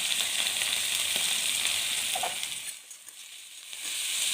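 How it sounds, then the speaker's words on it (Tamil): Onions and curry leaves with mustard seeds sizzle steadily in hot oil for a sweet potato dish, a dense close frying hiss that dips briefly midway before swelling back, with no talking. "இப்போ கட் பண்ணி வச்சுருக்கிற வெங்காயமும் கருவேப்பிலையும் சேர்த்துக்கலாம்."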